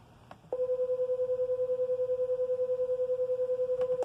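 Two nearly matched pure tones near 500 and 510 Hz play together, making a steady hum that pulses rapidly about ten times a second for several seconds and then cuts off, clean and alone.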